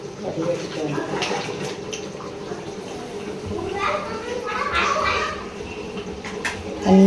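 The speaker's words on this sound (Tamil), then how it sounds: "இதை எடுத்து வடிச்சிடணும் வடிகட்டுறேன்" Boiled water pouring off biryani rice through a strainer, a splashing, running-water sound under steady talk, with a louder gush toward the end.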